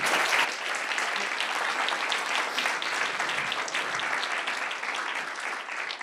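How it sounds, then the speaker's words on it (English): An audience at the Boston Global Surgery Symposium claps for the panelists and speakers. The applause is steady and moderately loud, a continuous wash of many hands that holds for the whole stretch without any talking. "if we can give another round of applause to our panelists and all of our speakers today."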